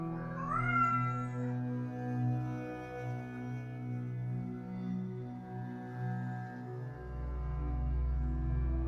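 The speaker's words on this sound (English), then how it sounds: "And supervising as always is Vega, the cat." A cat lets out long, drawn-out meows one after another, loud and close, with no other voices.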